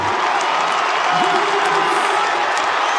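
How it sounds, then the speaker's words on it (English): Football crowd roaring at Adelaide Oval after Port Adelaide's win over Gold Coast in the 2025 AFL round 24 game, a loud sustained wash of cheering and whoops from a packed stadium, steady throughout with no break. "Have a listen to the crowd."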